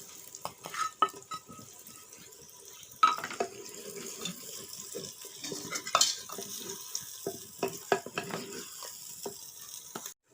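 Red chili and potatoes go into a pan, giving a soft sizzle with clattering stirs and scrapes; a sharp knock or two stands out in the irregular, moderately close activity.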